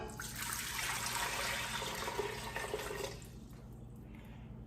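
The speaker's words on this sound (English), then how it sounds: "So I'm gonna put in 6 cups of water." Six cups of water pour steadily into a pot of gumbo mix, a continuous close splashing rush that lasts about three seconds before tapering off into quieter trickles.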